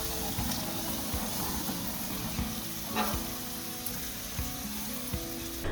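Chicken skewers coated in honey sauce sizzle on a grill, a steady, dense frying hiss with occasional soft pops and crackles, close and continuous throughout.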